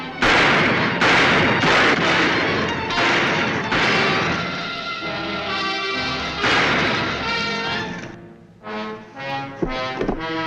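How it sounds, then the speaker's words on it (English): Gunfire in a shootout from a western TV episode, a rapid series of loud, close booming shots and crashes that continues for several seconds, then thins to a few sharp cracks over fading background sound. "Keep shooting."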